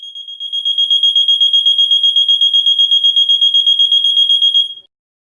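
A gas and fire alarm sounds a piercing, high-pitched electronic tone continuously with a fast pulsing flutter for about five seconds, then cuts off abruptly.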